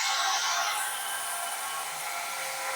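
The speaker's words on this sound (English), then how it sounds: "the compressor can be turned on. I'm starting it right now." Compressor in an autonomous power station starting up, a steady broadband whir with a bright hiss that shifts as it spins up, continuous and fairly close, no talking.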